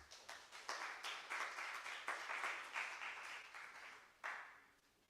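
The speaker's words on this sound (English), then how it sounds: "The other clap you just did was a bit weak, so another round of applause to our speakers" A conference audience at a World IP Day event claps after a session, a faint, uneven round of applause that rises and sags in waves, with a late burst before it fades out.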